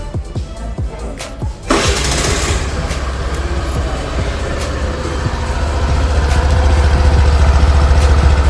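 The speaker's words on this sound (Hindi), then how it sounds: "चलिए अब आपको मैं स्कूटी स्टार्ट करके दिखा देती हूँ।" A Suzuki Burgman Street scooter fires up after a few cranking clicks, its engine catching abruptly and settling into a steady, close idle that grows slightly louder and deeper toward the end.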